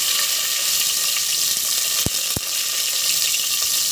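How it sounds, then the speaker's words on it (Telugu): Sliced onions and cumin seeds frying in hot oil for a cauliflower and green pea curry give a steady, loud sizzling hiss throughout, with two brief clicks partway through. "ఇప్పుడు సన్నగా కట్ చేసుకున్న ఒక రెండు ఆనియన్స్ని వేసుకోండి"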